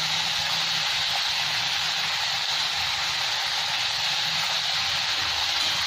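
Fresh, tender curry leaves dropped into hot oil in a pan while cooking chira poha, giving a steady, loud, continuous hiss and sizzle that holds throughout.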